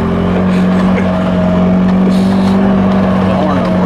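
A Workhorse vehicle's engine runs as a steady, loud drone with a low hum throughout, slightly rough and uneven, with people talking over it.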